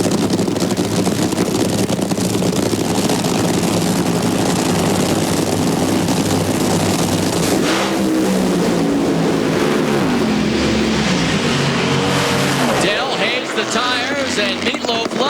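NHRA drag cars at the Sonoma Nationals roar at full power down the strip, a dense and loud engine blast that fades and shifts toward the end. A commentator talks over the noise.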